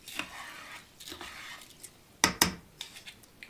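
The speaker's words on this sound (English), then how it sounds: "Go ahead and give this a little bit of a stir." A spoon stirs rice and water in a pot, giving soft scraping swishes and a couple of sharper knocks against the pot, close and fairly quiet.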